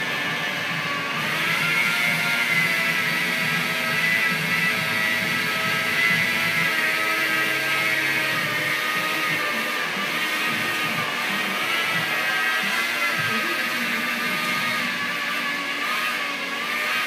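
A polishing pad machine whirs steadily while buffing clear coat on a bumper cover, a continuous close motor drone with a high tonal whine and slight load changes.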